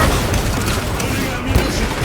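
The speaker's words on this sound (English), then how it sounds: "Deploying frag grenade!" A frag grenade blast in Warhammer 40,000: Space Marine 2 sounds as a loud, heavy, continuous boom amid dense gunfire and battle noise.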